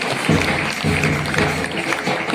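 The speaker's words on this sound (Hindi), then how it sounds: "जोरदार तालियां एक बार" Applause from a small audience at an alumni podcast session, a busy, continuous clatter of hands clapping at moderate loudness, steady over a couple of seconds.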